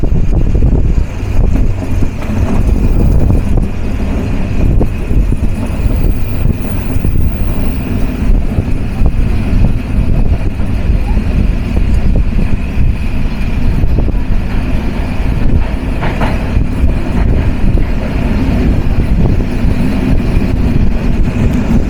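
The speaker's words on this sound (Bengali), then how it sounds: "আমাদের ট্রেন ধীরগতিতে থ্রু পাস যাবে টাঙ্গাইল রেলওয়ে স্টেশন" Steady loud low rumble and rattle from inside the Nilsagar Express as it rolls slowly through Tangail railway station on a rainy journey, continuous and unbroken with no speech.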